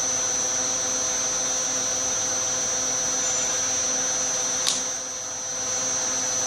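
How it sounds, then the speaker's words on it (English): A Bridgeport milling machine runs with a steady motor hum and a high whine, one brief sharp tick partway through, the drone dipping slightly afterward. "that's the Bridgeport mill. It's really a nice machine."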